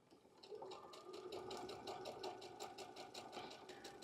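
A sewing machine stitches a quilt seam in a quick, even run of needle strokes, steady and fairly close, with no talking.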